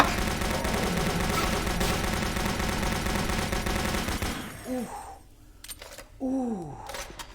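Dense, continuous automatic gunfire from the VR game Doom 3 fills the first four seconds, loud and rapid, then breaks off into quieter game sounds with a few short swooping tones.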